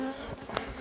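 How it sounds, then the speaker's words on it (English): Agitated honeybees drone around an opened hive frame, a dense, continuous close buzzing with overlapping wingbeat tones and one brief sharper whine passing near. "we have lots of bees up the top, as you can see"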